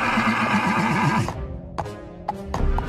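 Large horse halting: a loud, close neigh with a quivering whinny, followed by a few sparse hoof clops on hard ground.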